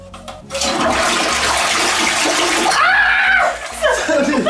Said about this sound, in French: tiens-le et tire la chasse en même temps